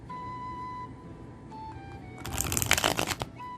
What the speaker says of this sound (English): if you're someone that likes to half the deck and shuffle them, should be pretty easy to do